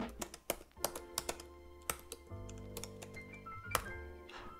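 Typing on a computer keyboard during an Nmap scan of a Raspberry Pi, a quick uneven run of close, crisp key clicks with short pauses, heard alone.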